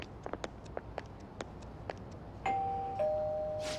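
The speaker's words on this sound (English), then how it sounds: "You ring the bell." A two-tone ding-dong doorbell rings at a house in Persona 5 Royal, clear and fairly near, after soft ticking footsteps.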